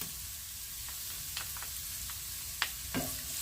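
Onions and garlic fry in oil in a pan with a steady close sizzle, punctuated by a few sharp pops and spatula taps.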